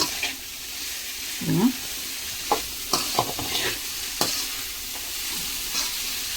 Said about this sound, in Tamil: இதையும் போட்டு நல்லா வதக்கி விட்டுக்கோங்க. எண்ணெயில் கொஞ்சம் நேரம் வதங்கட்டும்.